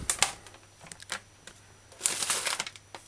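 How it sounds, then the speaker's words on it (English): A knife slices pork into thin strips for a pepper stir-fry, making faint, crisp cutting clicks and taps on a board, spaced irregularly, with a slightly busier run near the end. "Try and get a thin slice so we can cut the little strips"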